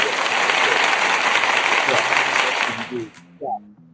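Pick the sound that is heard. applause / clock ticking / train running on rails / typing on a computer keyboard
applause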